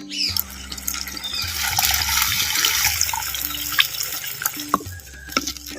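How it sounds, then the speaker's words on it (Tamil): Tamarind water is poured into a clay pot for nellikai (gooseberry) rasam, a steady splashing, trickling stream with small drips and clinks. It sounds close and continuous for several seconds, with no talking. "நெல்லிக்காய் சைஸ் புளியம்பழத்தை இரநூறு எம்எல் தண்ணியில் இப்போ கரைச்சி சேர்த்துக்கிறேன்"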